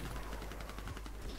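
Rapid gunfire in the Warface video game during a competitive clan-war match, with shots crackling in a dense, steady stream under a constant layer of game noise.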